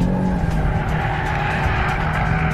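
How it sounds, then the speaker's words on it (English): An Audi RS3 drifts with a sustained, loud tire squeal over a droning engine, continuous and close for a couple of seconds. "you get to do drifts like that in an Audi RS3"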